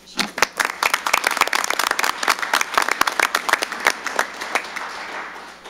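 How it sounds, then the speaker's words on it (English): A council meeting audience claps in scattered, irregular applause for about six seconds, individual hand claps distinct and fairly close, with a little background voice. "so round of applause for Kim."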